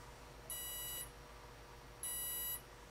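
A 45 amp electronic speed controller in a Stingray 500 RC model beeps two long, identical high tones during startup speed programming, clear and fairly quiet against a faint background hum.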